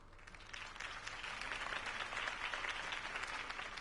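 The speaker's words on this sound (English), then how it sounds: "If only Mr. Wayne, my campaign's largest backer, could have heard that applause" Video game crowd applauds steadily, a dense wash of clapping and cheering that holds level throughout with no talking over it.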